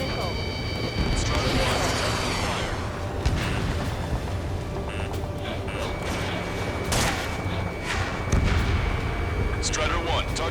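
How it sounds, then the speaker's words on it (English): Booming missile explosions and rumbling blasts fill a jet combat flight game, layered with radio chatter, engine roar and steady electronic tones; a voice talks over the action. "An explosion! Ignite!"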